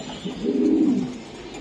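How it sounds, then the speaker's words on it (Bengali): A racing pigeon gives a single soft, low coo lasting under a second, close by, against quiet background noise. "কবুতরটা অনেক সুন্দর একটা কবুতর।"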